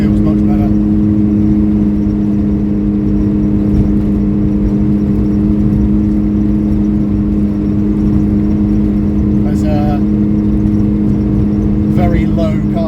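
A Datsun 810 Bluebird driving on Mazda MX5 suspension, a steady droning engine and road hum heard from inside the car, with a voice talking over it.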